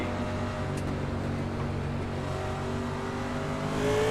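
Stock car engines in an iRacing Cup Car race at Nashville Superspeedway drone steadily together, a dense, continuous pack roar with a slight rise in pitch toward the end.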